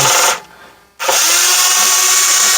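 A power drill backs screws out of the back board of a 2004–2009 Toyota Prius instrument cluster, giving a loud, steady whine that stops briefly and then starts again and runs on.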